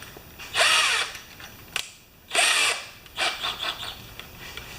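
A power drill whirs in short bursts, spinning up and stopping several times, with a whining, grinding bite as it works into a dimple on a 1973 Briggs tiller part.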